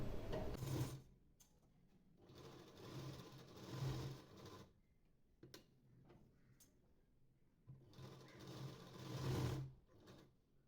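A domestic sewing machine stitches a blouse neckline design in three short bursts of soft mechanical ticking, separated by quiet pauses; fairly faint, with no talking.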